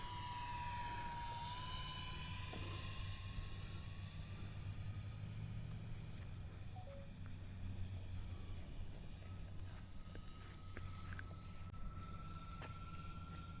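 An E-flite SR-71A Blackbird RC model jet on its first flight at Fritz Field, a steady whining turbine-like hum with a rising and falling pitch, fairly faint and distant against outdoor background noise.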